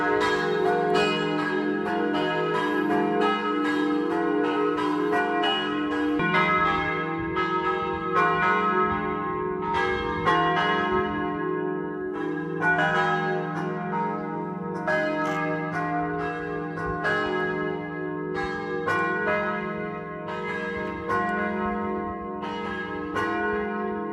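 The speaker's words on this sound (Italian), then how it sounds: "E mentre sfuma il suono delle campane" Church bells ring continuously, with repeated strikes overlapping into a rich, sustained metallic peal that stays loud and steady throughout, with no voices.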